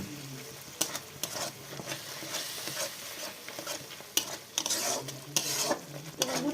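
Spice paste with turmeric is stir-fried in a pan, a low sizzle under repeated scraping strokes of a spoon against metal, with a few sharper clanks spaced unevenly through the passage.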